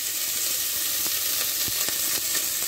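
Olive oil sizzling and frying steadily in a pan while making a pepper sauce for stuffed peppers, a continuous close hiss with faint crackles and no talking.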